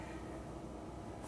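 A water pump running steadily in a Mercedes SLK32 AMG during fuel system work, a continuous low mechanical hum and whir, fairly faint and unbroken, with no talking.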